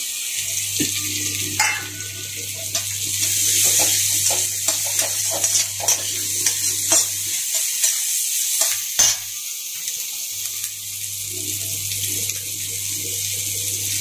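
Chopped onions hit hot oil with cumin in a home kitchen pan, giving a steady sizzle with scraping stirs and clattering spoon knocks, plus a low steady hum that drops out midway and returns.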